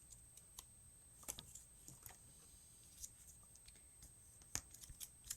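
Soft crinkles and sharp creasing snaps as a paper card is folded zigzag, back and forth, then pressed into creases for a foldable dome card, scattered light taps and rustles at close range with no talking.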